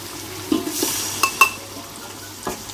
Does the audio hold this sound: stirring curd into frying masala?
yes